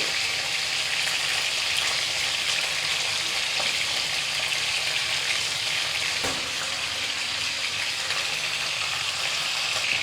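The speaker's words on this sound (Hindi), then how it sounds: "अगर ये गीली होगी तो इसका तेल उड़ सकता है, तो आप इसे थोड़ा ध्यान से फ्राई करें।" Fish fillets frying in hot oil in a pan, a steady loud crackling sizzle with scattered pops that stays constant throughout.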